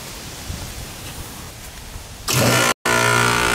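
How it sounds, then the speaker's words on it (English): An air conditioner compressor suddenly kicks on after a quiet, low background, jumping to a loud, steady broadband roar with a hum underneath, briefly cut off once before continuing. "we're gonna see if the compressor starts"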